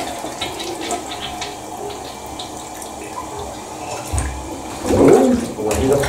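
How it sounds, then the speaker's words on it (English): Water gurgling and trickling down a toilet drain clogged with a pee pad, a steady low wash that swells into louder sloshing near the end, with a voice talking over it. "let's see if we can get more water to go down the drain"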